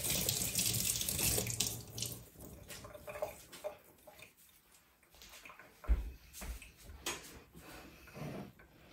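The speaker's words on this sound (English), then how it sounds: "I'm just going to use hot water" Hot water runs from a tap into a sink, splashing unevenly, with clinks and knocks as canning jar rims are handled and rinsed while canning apple butter.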